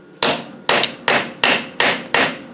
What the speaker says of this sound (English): See if I can get a bigger chisel.